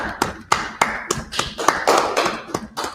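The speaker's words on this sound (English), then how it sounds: "Let's clap it up." A group clapping together in a steady, fairly quick unison rhythm, close and loud, about a dozen sharp claps with no talking.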